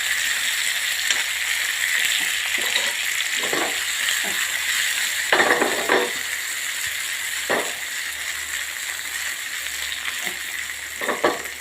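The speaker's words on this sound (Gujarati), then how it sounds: "સરસ ફ્રાય થવા દઈશું 2 મિનિટ." Tomatoes frying in a pan for paneer karara, a steady close sizzle with occasional stirring scrapes and clinks, no voices.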